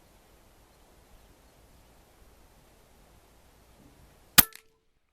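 A single sharp crack from a Hatsan Gladius bullpup air rifle firing at high power, loud and close after several seconds of near silence, with a short ringing tail.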